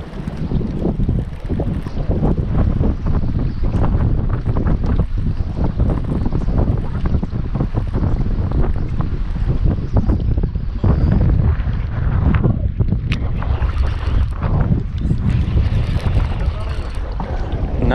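Wind gusts rumble steadily and loudly against the microphone on a bass-fishing boat in the Ozarks in spring, a broad continuous roar that masks most other detail, with occasional faint speech mixed in.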